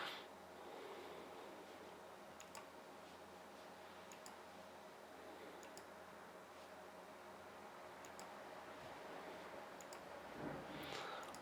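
Rapid mouse clicking while setting RGB lighting on memory modules in a Ryzen gaming PC build, a quick run of faint, close clicks and ticks over a low steady background hum.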